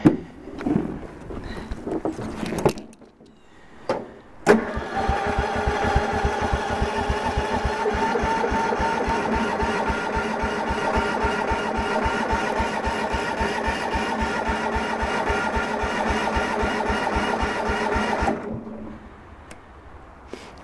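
A small engine being started with the choke on: a few rough clicks and sputters give way to a steady, rapidly pulsing running note that holds for about fourteen seconds before cutting off, close by and without speech.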